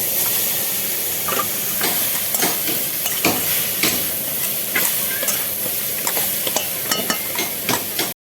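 Grated coconut frying in a pan for semolina kuli pitha gives a steady close sizzling hiss, with scattered scraping and stirring clicks running through the whole stretch.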